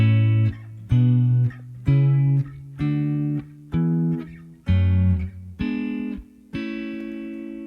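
A series of guitar chords struck one after another at an even pace, each ringing briefly before the next, eight or so in total, no voices.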